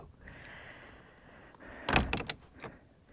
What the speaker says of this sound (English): We got a door that closes.